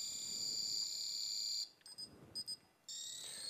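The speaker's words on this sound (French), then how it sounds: "Un double bip signifie que nous sommes sur le faisceau 1" A Prodatec Mirador beam alignment unit on beam 1 holds a steady high electronic tone, breaks off, sounds short paired beeps, then resumes the continuous tone; clear and close.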